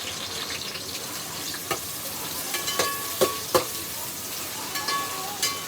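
Finely chopped small onions fry in a pan for Tamil-style ghee rice, a soft continuous sizzle with a few sharp scraping clicks from stirring, close and moderately quiet.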